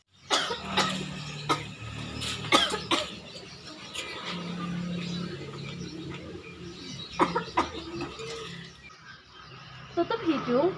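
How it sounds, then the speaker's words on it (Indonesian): A person demonstrating a safe way to cough, giving several separate coughs, some in short pairs, fairly close, with talking and light background chirps between them. "saya akan mempraktekkan cara batuk yang safety"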